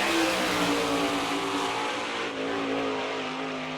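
Winged sprint car from the All Star Circuit of Champions lapping the Barberville, Florida dirt track, its engine roaring loud and steady with a sustained high-revving drone and no talk over it.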